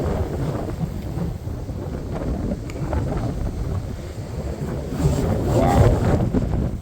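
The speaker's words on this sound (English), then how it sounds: "It's crazy windy up here." Strong wind of more than 30 mph gusts across an exposed hilltop in Maplewood State Park, roaring and buffeting the microphone nonstop and building louder near the end.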